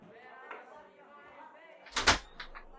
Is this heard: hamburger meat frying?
no